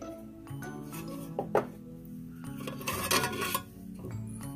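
Metal camping pot and a small pot gripper clinking together, light scattered clanks and rattles at close range, fairly faint, with a few brighter metallic chinks.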